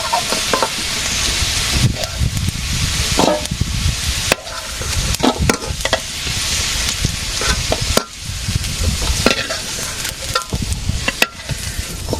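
Potatoes fry and sizzle in a pan in a village kitchen, a steady loud hiss broken by repeated stirring scrapes, with no voices.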